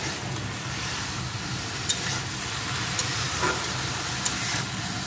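Water lily stems fry in a pan with a continuous moist sizzle and hiss, while a few sharp scraping stirs stand out over the steady bubbling.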